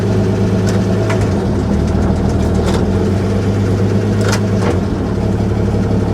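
A 1955 GMC 350 truck with a Hydra-Matic transmission, its long-abandoned engine running steadily in gear as the truck creeps along, a loud, continuous low rumble with a few faint clicks above it.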